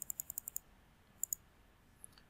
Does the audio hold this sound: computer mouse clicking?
yes